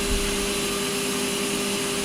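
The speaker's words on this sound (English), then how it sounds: "Now we're on to cutting the flat bar into individual plates" CNC machine cutting steel flat bar into individual plates for serial number engraving, a steady, loud, continuous machining whine and hum with a strong constant tone, alone without pauses.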